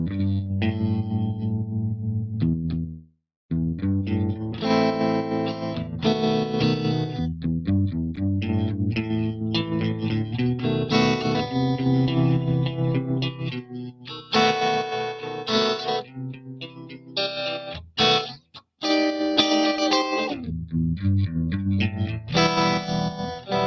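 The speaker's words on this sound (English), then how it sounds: "that's going to unlock the Trem 65 setting" Electric guitar through a Universal Audio pedal on its Trem 65 setting, a tube-style tremolo modeled on the 65 Deluxe Reverb circuit, pulsing steadily over strummed and picked chords, loud and close with brief pauses between phrases.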